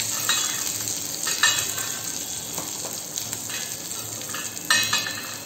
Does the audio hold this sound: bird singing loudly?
no